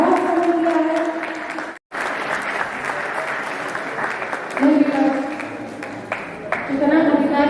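An audience at the Divya Anubhuti fair applauds loudly and steadily to welcome a panel of PGI doctors. A voice carries over the clapping, which breaks off for a moment partway through before resuming.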